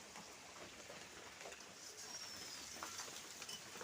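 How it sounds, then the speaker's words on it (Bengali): Heavy rain pours down steadily outdoors during cooking, a dense continuous hiss with a faint bird call above it, loud and unbroken throughout. "রান্না করতে করতে একদম পুরো জোরে বৃষ্টি নেমে গেছে"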